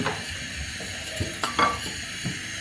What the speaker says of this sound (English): we want to turn our plantain.